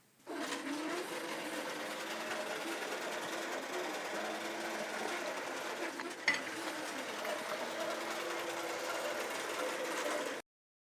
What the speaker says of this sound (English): So I'm just going to hit sew and let the design finish stitching.